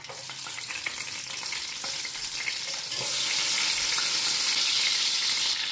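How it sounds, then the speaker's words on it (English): Locust beans hit hot palm oil in a cooking pot, setting off a close, dense sizzle that grows louder and fuller partway through, with light stirring scrapes and no talk. "Now I'm going to add palm oil in my pot. Now I'm going to add my locust beans."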